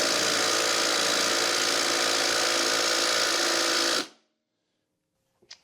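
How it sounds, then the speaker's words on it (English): An impact wrench tightens a bolt on a Honda HRX lawn mower in one steady, loud, continuous buzzing burst of about four seconds, which cuts off abruptly into near silence. "I'm going to use an impact wrench to tighten this bolt down here"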